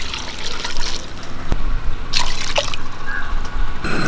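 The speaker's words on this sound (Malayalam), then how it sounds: "കപ്പ വേവിക്കാൻ വെക്കാം. അതിന് ആവശ്യമായിട്ടുള്ള വെള്ളം ഒഴിച്ചു കൊടുക്കാം." Water splashing and trickling into a pot of tapioca for boiling, close up, with intermittent drips and bursts of pouring.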